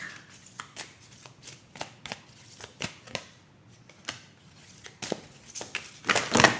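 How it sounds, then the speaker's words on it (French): Playing cards are shuffled and dealt in a run of sharp riffling snaps and soft slaps, close and fairly quiet, ending in a louder burst of rapid shuffling. "C'est toutes les cartes qui tombent."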